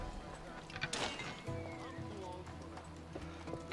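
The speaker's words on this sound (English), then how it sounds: "we're here to save the horse" Horse hooves clip-clop in the Assassin's Creed Odyssey video game, a steady close trot with a brief whinny, mixed with ambient game sound and someone talking over it.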